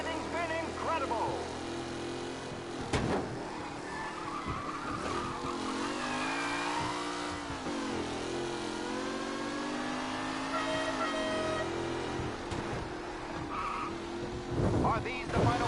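Race cars skid and whine through a race in the video game Mafia Definitive Edition, engine tones swooping up and down with tire squeals, loud and continuous under steady commentary.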